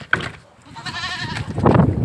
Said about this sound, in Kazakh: Ойбай, ешкілерім далаға шығып кетті.